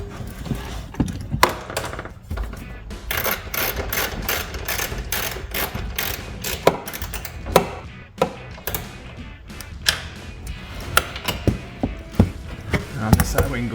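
A ratchet clicks rapidly in bursts while the tail light nuts on a 2019-2024 Camaro are snugged down, close and crisp, with brief pauses and knocks between runs of clicking.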